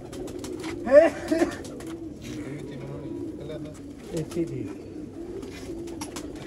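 Red-eyed pigeons in a loft near Sialkot coo in soft, repeated low bursts, the loudest near the start and another pair a few seconds later, with someone talking over them.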